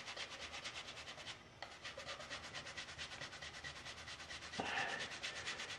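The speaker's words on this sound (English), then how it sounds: "I'm using a fairly fine file because I don't want to create file marks" Quick, steady strokes of a fine file rasping against the metal of a Remington Whitmore lifter, close up and continuous, with a brief pause partway through.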